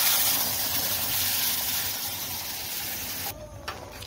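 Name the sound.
ground coriander green chutney sizzling in hot oil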